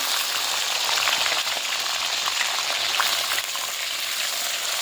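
Tomatoes sizzle and crackle steadily in a hot pan with dried chillies and whole cumin, a dense frying hiss with faint stirring.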